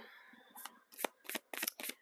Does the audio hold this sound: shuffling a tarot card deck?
yes